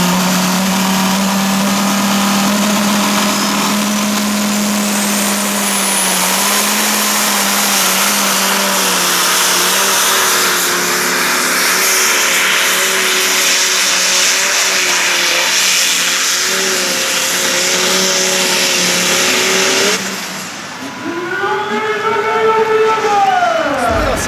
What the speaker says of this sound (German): det er også en helt særlig Dingo med V10 Mercedes diesel.